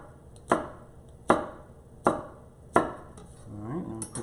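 Knife chops through the white part of scallions on a board in four sharp, evenly spaced strokes, close and crisp, with a brief bit of faint background sound at the end.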